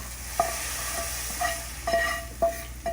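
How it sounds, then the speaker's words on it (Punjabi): Tadka tempering poured into a pot of dal with pumpkin and split chickpeas sizzles steadily, broken by several sharp metallic clinks and scrapes of a ladle against the pan. "ਆਪਾਂ ਹੁਣ ਤੜਕਾ ਦਾਲ ਚ ਪਾ ਦਾਂਗੇ"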